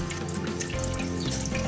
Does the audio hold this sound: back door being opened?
no